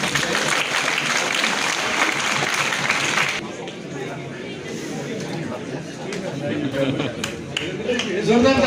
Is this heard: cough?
no